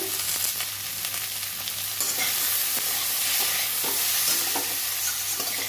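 Steamed cauliflower, potato and paneer fry in hot oil in a pan, a loud close sizzle under steady scraping and stirring of the pieces throughout, with no talking.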